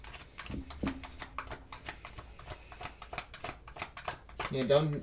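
Tarot cards shuffled by hand in quick repeated riffles and slaps, a steady stream of crisp papery bursts, close and moderately loud, with a brief flutter near the end.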